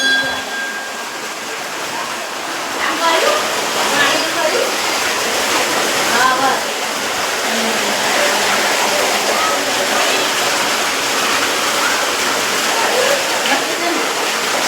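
Loud, continuous rush of water flowing into a tank, filling the whole clip, a steady roaring wash with splashy texture throughout.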